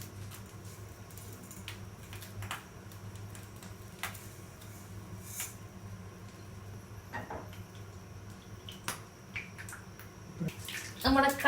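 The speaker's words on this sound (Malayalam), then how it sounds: "നമ്മുടെ കടുകൊക്കെ റെഡി ആയിട്ടുണ്ട്. പൊട്ടി പൊട്ടി തെറിക്കുന്നുണ്ട്." Mustard seeds splutter in hot coconut oil in a pan for a Kerala sambar tempering: scattered faint pops and ticks, growing into a denser burst of crackling at the end.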